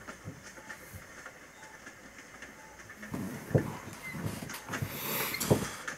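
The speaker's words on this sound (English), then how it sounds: "Got a train." A train rolls past, starting as a low distant rumble and growing louder halfway through with clattering wheel clicks, metallic squeals and hissing, heard alone without talk.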